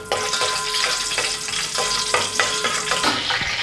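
Whole spices, including about two inches of broken cinnamon, star anise and cardamom, sizzle and crackle steadily in hot ghee and oil for biryani, a loud close continuous fry with no talking.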